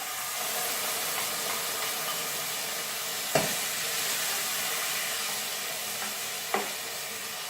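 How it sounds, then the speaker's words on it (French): Vegetables and crushed tomatoes sizzle steadily in a pan as a broad, even hiss, with two brief knocks of a utensil against the pan partway through, no voices. "Donc on va faire revenir ça quelques minutes."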